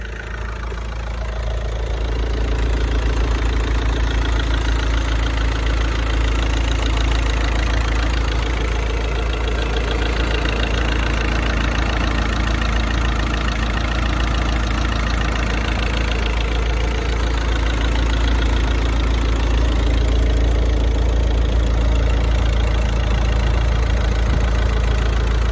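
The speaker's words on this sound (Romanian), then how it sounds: "Am pornit și hai să ascultăm motorașul ăsta, cel mai celebru diesel" Volkswagen Passat 1.9 diesel with about 320,000 km, idling steadily after start-up, a constant low rumbling clatter with a faint rhythmic knock, close and alone for the whole stretch.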